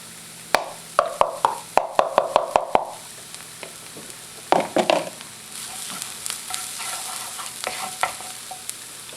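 Garlic tossed into onions frying in a pan: a run of sharp scraping stirs and spoon knocks over a steady sizzle, pausing, then another burst of stirring before the frying settles into a continuous crackle.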